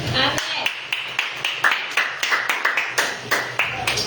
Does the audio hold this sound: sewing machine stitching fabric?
no